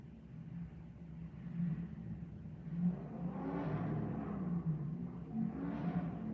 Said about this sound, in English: You hear them revving the car?